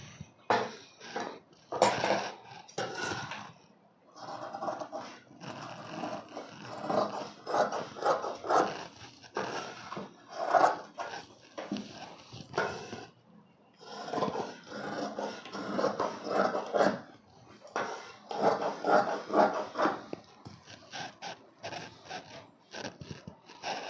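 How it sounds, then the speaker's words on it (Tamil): Scissors cut through fabric for the back piece of a blouse, a close series of crisp snipping and rasping strokes in irregular bursts with brief pauses. "இப்போ பேக் பீஸை கட் பண்ணிக்கலாம்."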